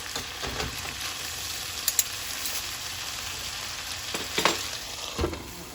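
Beef and onion frying in a pan for tacos, a close, steady sizzle with scattered sharp pops and a few utensil knocks, no voices.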